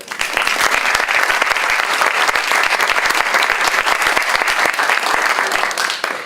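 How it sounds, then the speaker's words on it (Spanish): A large audience at a literature talk on Patrick Modiano applauds loudly and steadily, a dense wash of clapping that holds strong for several seconds before tapering at the very end. "creo que se merece un aplauso"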